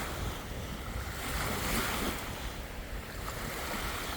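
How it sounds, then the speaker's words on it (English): Lake waves wash steadily against the shore of Mille Lacs Lake in Minnesota while wind buffets the microphone, a continuous broadband roar with a gentle swell in the middle and no voices. "Waves just keep coming and coming."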